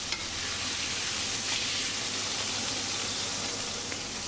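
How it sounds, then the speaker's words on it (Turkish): Fajita meat sizzles loudly in a hot frying pan as it is lifted out, a dense, steady crackling hiss close up with a few light clatters, no voices. "Şimdi etimi kurutmamak için hemen bu şekilde tavadan alıyorum"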